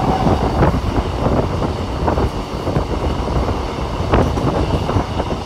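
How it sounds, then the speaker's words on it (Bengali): A local train on the Sealdah–Katwa line runs on from Shyamnagar, its close, steady rumble and rattling wheel clicks filling the whole stretch with no voices. "আমাদের ট্রেনটা এখন ছেড়ে দিল হচ্ছে শ্যামনগর থেকে"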